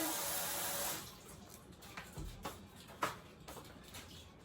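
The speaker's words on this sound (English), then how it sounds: "So I'm going to be adding a little bit of water, just a few of these full of water." Water pours into a pot of bean stew for about a second, then stops, followed by a few light clinks and taps in a quiet kitchen.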